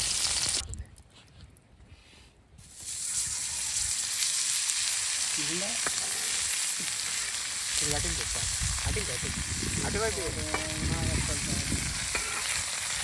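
Fish sizzling steadily in a pan over an open fire in a forest, a loud continuous crackle that dips briefly near the start before resuming strongly.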